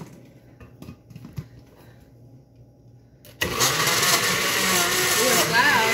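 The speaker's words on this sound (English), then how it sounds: "Oh, it's loud. Can you see it? It's mixing." A blender mixing a smoothie of squeezed fruit and a little water kicks on abruptly partway through, a loud, steady whirring roar that drowns out the quieter room sounds before it.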